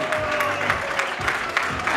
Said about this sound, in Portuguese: continuar a aplaudir todos!